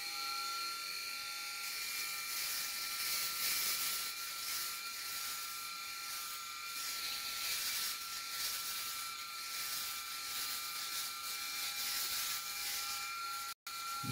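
A Phisco electric razor buzzes steadily while shaving hair, a close, continuous whirring hum with a rough rubbing texture and no voices.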